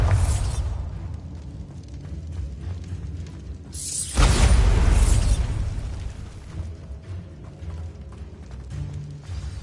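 A Bombarda spell explosion in the Hogwarts video game, one loud booming blast about halfway through, rising from a low ambient rumble and decaying with a rushing tail.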